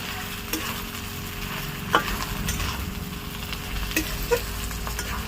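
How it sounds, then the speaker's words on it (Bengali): Mutton, browned and cooked down, is stirred with mango leaves in a pan, producing a steady sizzle with occasional clear scrapes and knocks of the spoon, close and even throughout. "এইবার দিয়ে দেবো তিনটে আম পাতা এবার এগুলো দিয়ে একটু নেড়ে চেড়ে নেবো"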